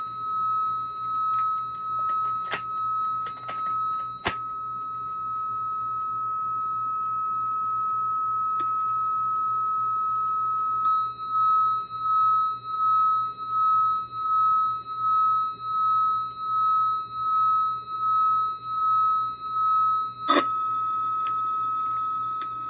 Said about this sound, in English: Everybody's beeping now.